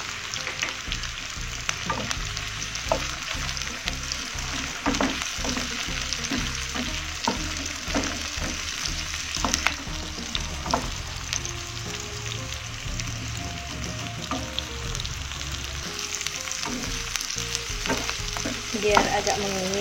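Tempe sizzles and crackles steadily in a hot pan while a spatula stirs it, sharp scraping clicks scattered through the constant frying hiss, close and without speech.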